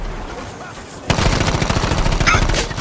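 Gunfire in the video game Battlefield V: after a second of low rumble, loud rapid automatic bursts break out and rattle on continuously, close and dense, with a voice faintly under the shots.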